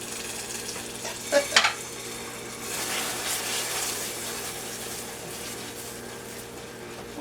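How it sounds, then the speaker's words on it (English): Vanilla extract hits a hot pan and fries off its alcohol while being stirred, giving a short burst of clatter followed by a soft, steady sizzle that lingers at moderate volume, with no talking. "You know what this vanilla sound like when it gets something hot."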